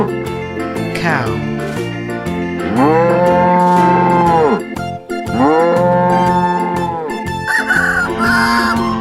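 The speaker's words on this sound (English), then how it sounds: "Cow." Cartoon farm-animal cow mooing in a children's toy video, two long, loud, drawn-out moos with strong tonal harmonics over playful background music, with a rooster-like crow near the end.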